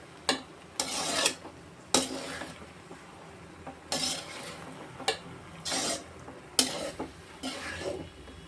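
Egg pasta being stirred and tossed in a pan with a spoon, soft scraping strokes and clinks repeating every second or so over a low frying sizzle, close and fairly quiet.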